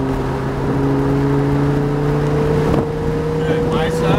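A Lamborghini Huracan accelerates downhill on Sonoma Raceway, the engine droning loud and steady with rising tones, and an instructor's voice is heard over it.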